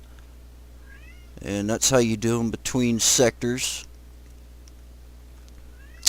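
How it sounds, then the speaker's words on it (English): A person speaks briefly with a faint cat meow heard just before the talk begins, plus another soft meow near the end. "Sorry about my cat, if you hear it, it won't shut up."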